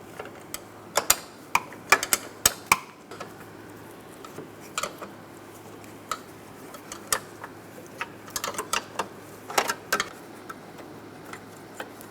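Top strut mount bolts come out on a 2007-2012 Nissan Altima: scattered metallic ticks and clicks of a ratchet, in irregular bursts with quiet gaps, close and moderately loud.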